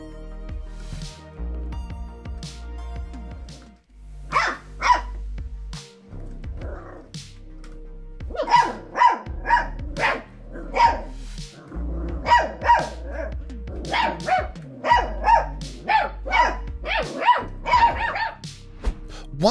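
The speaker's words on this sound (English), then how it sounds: "Their tiny barks sound like a chorus of excitement." Five-week-old Border Collie puppies yap in a busy chorus, with high, overlapping tiny barks and yips coming in quick bursts that grow denser over the second half, all close by with no talking.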